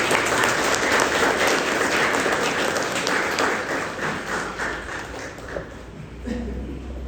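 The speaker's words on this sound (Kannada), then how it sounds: "ಚಪ್ಪಾಳೆಯೊಂದಿಗೆ" Sustained applause from a congregation inside a church during a couples' inauguration service led by a bishop, dense clapping filling the hall steadily for several seconds before thinning out near the end.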